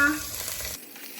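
A soft sizzle of a raw salted egg frying sunny-side up in a pan with little oil, fairly quiet and steady, cutting off abruptly partway through.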